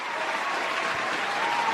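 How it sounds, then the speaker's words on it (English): An audience claps steadily for competition finalists at a final round, dense, even applause from a crowd filling the whole short stretch. "Let's give a big round of applause to these exceptional finalists."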